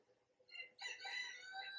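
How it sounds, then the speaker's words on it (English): A rooster crows a single time from some distance, drawn-out and clear against a quiet background, with no talking during the call. "And that rooster is going nuts."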